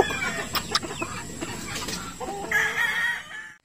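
Young roosters and hens in a breeding pen cluck and call close by, with a few sharp chirps early and a longer drawn-out crowing cry near the end.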